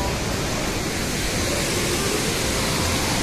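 Water rushes and roars at Hogenakkal waterfall, a steady, dense broadband wash heard from nearby with no pauses and no talk.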